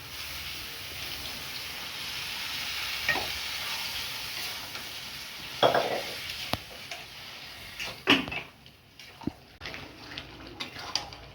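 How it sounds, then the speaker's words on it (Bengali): Boiled kabuli chickpeas sautéing in a pan, a continuous loud sizzle broken by several scraping stirs and clatters from a spatula, close up. "ছোলাটা দিয়ে কষিয়ে নিয়েছি একটু"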